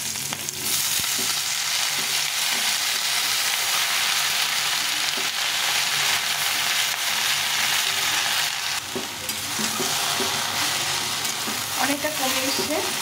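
Taro leaves with chopped garlic and bay leaf sizzling and frying in a pan, a steady loud hiss with occasional stirring scrapes throughout, no talking.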